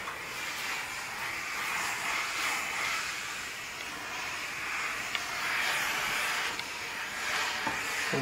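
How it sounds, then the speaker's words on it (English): Continuous soft hiss of a homeasy HE-S3 handheld clothes steamer steaming garments nearby, with a faint click or two and no voices over it. "Beautiful little handheld steamer."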